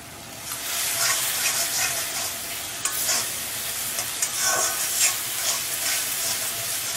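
Turmeric, ground coriander and chili powder fry in a pan while being worked for a Bengali parshe fish dish. A continuous bright sizzle runs under repeated scraping strokes of stirring, close and fairly loud.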